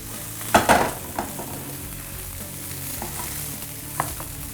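Breaded chicken pieces browning in hot frying oil, a steady close sizzle with a sharp crackling flare near the start and a few light clinks of utensils.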